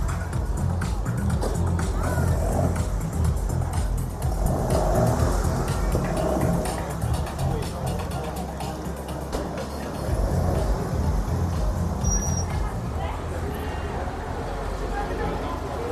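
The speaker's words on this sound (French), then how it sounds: "Il y en a toujours plus et plus et plus de voitures qui arrivent. En fait, c'est le rallye de Durby" Classic and vintage cars arriving at the Durbuy rally in Belgium, engines rumbling and passing in a continuous low drone with traffic noise and a few louder swells, a busy outdoor street scene.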